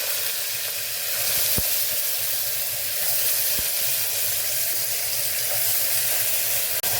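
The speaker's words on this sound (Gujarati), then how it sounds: "તો અહીં આપણું તેલ સરસ ગરમ થઈ ગયું છે તો અડધી ચમચી જેટલી આપણે રાઈ ઉમેરશું" A dense, constant sizzle of mustard and cumin seeds frying in hot oil fills the clip, with a couple of sharp ticks and no talking.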